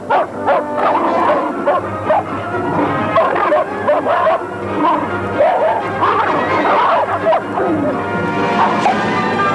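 At a restaged formal dinner for dogs, several dogs bark, yip and whimper almost without a break, loud and close over a murmuring background.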